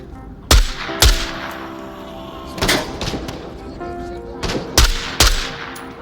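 Rifle fire from an SKS in the VR shooter Onward: sharp single gunshots cracking out in an uneven rhythm, two close together early, more spaced later, loud and near, with other shots and game ambience between them.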